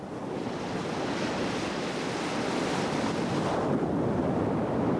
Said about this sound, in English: the kelp absorbs the energy of the raging waves